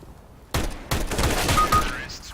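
Gunfire in the CS:GO video game: a sudden loud burst of rapid shots, then a second burst a moment later, close and punchy, trailing into a faint whine.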